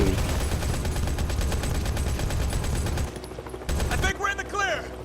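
Rapid sustained automatic gunfire in the video game Modern Combat 5 rattles loudly for about three seconds, then breaks into shorter bursts, with a voice talking near the end.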